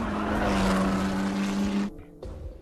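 Race car engines roar at the start of the 24 Hours of Le Mans, a loud sustained droning whine that cuts off abruptly near the end before a lower rumble returns.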